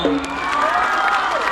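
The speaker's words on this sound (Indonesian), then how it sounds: "Tepuk tangan dulu dong" A crowd at a live rap show in Sidikalang cheers and whoops loudly in a brief, dense burst, with shouting voices mixed into the noise.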